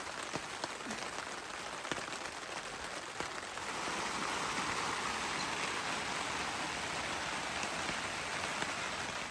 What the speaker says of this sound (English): listening to the rain patter on the roof